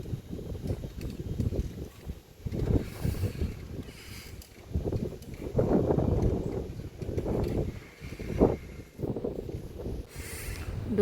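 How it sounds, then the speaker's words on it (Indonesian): Gusty wind blows across the microphone out in an open field, loud rumbling buffets that swell and fade in irregular waves over a faint steady background. "Kalau di sini anginnya lebih kencang ya."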